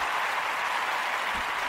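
Steady, dense applause from a crowd, even and sustained throughout with no voices over it.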